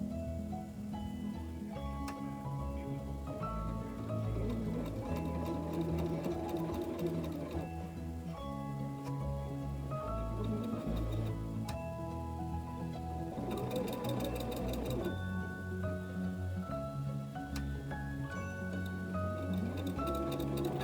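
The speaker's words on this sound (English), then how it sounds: "Then I quilted all the blocks." A sewing machine quilting fabric blocks with a walking foot, its motor humming in a steady mechanical whir with rapid needle ticking, running continuously and close with small shifts in speed.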